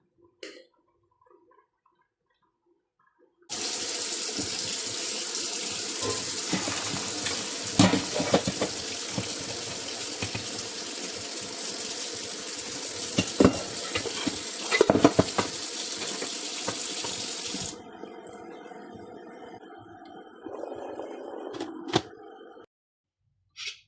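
Hot pasta water pours steadily through a strainer into a kitchen sink for about fourteen seconds, a loud continuous rushing splash, then fades to lighter trickling and dripping with a few clatters of the pan.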